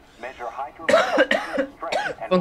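Close, rough coughs from a player during a Prototype 2 gaming session, three or four strained bursts in quick succession, tangled with talking voices in Turkish.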